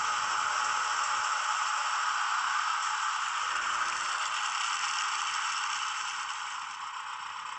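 A sound effect of fueling from an HO-scale German VW railroad maintenance vehicle, class KLv: a steady, hissing rush of noise that runs continuously and fades slightly at the end.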